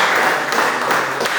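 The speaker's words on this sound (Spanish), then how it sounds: "Démosle un aplauso a Cristo Jesús" Church congregation at a Spanish Bible study applauds in praise, a steady, fairly loud patter of clapping filling the room.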